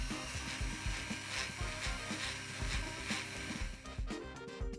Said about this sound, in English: Using just the fine abrasive wheel, I'm trying not to get into the recesses.